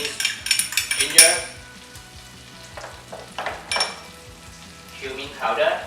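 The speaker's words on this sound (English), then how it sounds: "First you add in some chopped onions and then we add some minced garlic, minced ginger," Chopped onions, minced garlic and ginger fry and sizzle in a saucepan while a utensil stirs and scrapes against the metal in quick, close clatters, with a steady hiss underneath.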